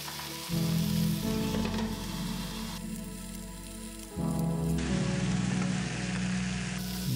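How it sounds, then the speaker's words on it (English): Halibut frying in a hot pan, a steady loud sizzle with a crackling hiss that swells again partway through and keeps going without talk. "Let the pan get hot and throw in that halibut."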